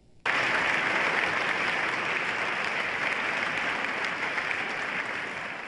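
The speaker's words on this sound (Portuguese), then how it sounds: "Fortemente aplaudido por diversas vezes" A large crowd applauds Lula, a strong continuous roar of clapping that starts abruptly and holds steady throughout.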